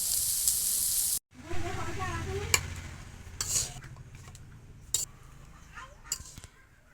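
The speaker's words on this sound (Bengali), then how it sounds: "এই যে সবজি আমার ভাজা হয়ে গেছে, এবারে নামাই নেব।" Mixed winter vegetables frying in a pan and being stirred: a soft, steady sizzle with repeated scraping and clinking of the spoon against the pan, close and fairly quiet, fading as it goes.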